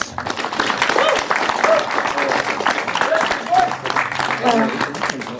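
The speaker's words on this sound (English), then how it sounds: "please give a big round of applause for the winners." A crowd applauds the winners at a T20 cricket league final in East Khasi Hills, steady clapping with voices talking over it and some tonal background sound.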